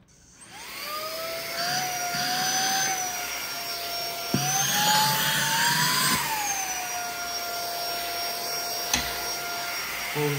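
An XREXS handheld cordless car vacuum cleaner runs with a high-pitched motor whine that shifts in pitch as it is moved, along with airy suction noise and a few light knocks, with no voices.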